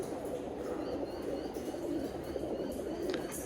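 Low, faint cooing from a Birmingham Roller pigeon hen carries over a constant hum of background noise, with a few distant chirps around it.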